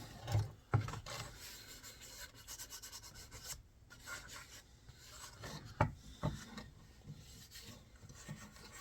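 Linseed oil is rubbed into a cherry wood cutting board with a cloth, giving a soft, continuous scrubbing and rasping friction with a few louder knocks of the board, close and quiet.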